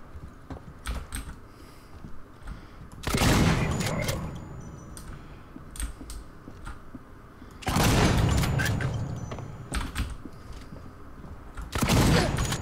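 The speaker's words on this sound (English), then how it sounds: "Maybe I should just use a freaking shotgun." Shotgun blasts in the game Alien Isolation: three loud, booming bursts spaced several seconds apart, each with a long decaying roar, set against quieter clicks and ambient game noise.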